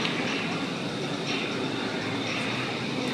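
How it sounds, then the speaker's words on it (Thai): Bangkok skytrain running past the MBK skywalk, a loud continuous rushing roar of the elevated train with steady wheel and air noise filling the whole stretch. "นี่ก็คือบรรยากาศรถไฟวิ่ง"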